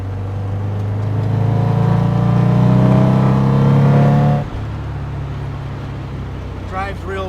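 A 1965 Chevrolet Corvette with a ZZ4 V8 drives with a loud, close engine drone that builds through acceleration, then drops abruptly to a steadier low rumble as the gear changes, with a voice talking over it.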